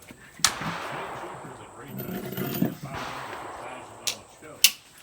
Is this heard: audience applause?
no